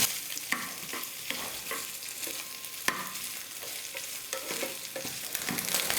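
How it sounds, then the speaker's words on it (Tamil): Coconut pieces frying in ghee on a stove, a steady close sizzle with repeated scraping strokes of a spoon stirring the pan, no voices. "நெய்யில் தேங்காவை நல்லா வறுத்துக்கலாம்."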